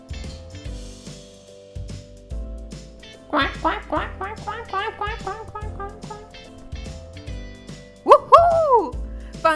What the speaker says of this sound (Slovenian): Raca.